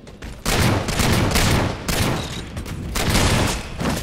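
Rapid bursts of automatic gunfire from Halo 4 multiplayer team combat, loud and close, in sustained volleys broken by a couple of short gaps.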